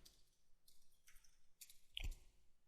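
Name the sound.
typing on a computer keyboard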